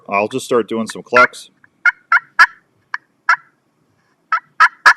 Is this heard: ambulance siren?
no